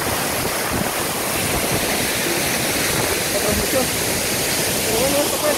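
Roar of the Chiflón waterfalls in Chiapas, with rain falling on the spot, a loud, steady broadband rush that fills the whole clip, with faint voices underneath.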